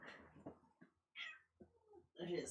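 A cat meows faintly several times in short, uneven calls, with quiet gaps between them.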